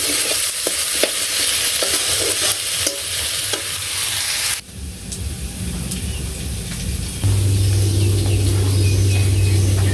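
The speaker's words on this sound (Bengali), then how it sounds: "আলুগুলো একটু ভেজে তারপর এখানে ডাটা দিয়ে দিব।" Potatoes frying in a pan at home with a loud, steady sizzle and stirring scrapes throughout, heavy rain audible in the background, and a low hum entering in the final seconds.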